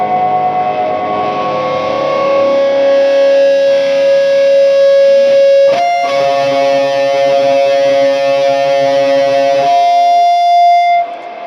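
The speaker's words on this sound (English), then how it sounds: "It's not unpleasant, obviously it is loud feedback, but it's very controlled." Loud, sustained feedback tones from a Gibson electric guitar through an amplifier ring out and shift pitch, with a distorted, reverberant howl swelling over hiss and a brief crackle midway before fading at the end.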